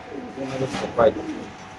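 Racer pigeons kept in cages give a short, soft cooing call, close by and brief, with faint background murmur.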